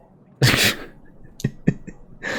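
A villager in the video game Yes, Your Grace sneezes loudly and close up, followed by a few short sniffs and breathy bursts.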